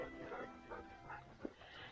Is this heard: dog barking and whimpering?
yes